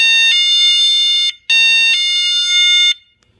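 A cheap standalone car alarm gives two loud, shrill electronic tones, each about a second long with a brief gap between them, then cuts off into near silence.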